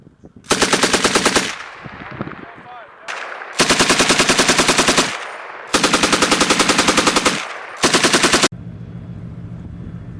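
Machine guns fired in turn during a NATO amphibious invasion exercise in Europe's far north, four long, loud rapid bursts alternating between guns, with brief gaps and outdoor wind noise between them.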